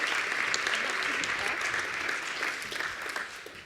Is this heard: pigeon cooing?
no